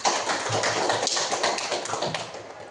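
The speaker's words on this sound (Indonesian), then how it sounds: "Beri aplaus kepada temannya." Students in a classroom applaud a classmate with a burst of dense, brisk clapping that runs steadily throughout, fairly close and lively.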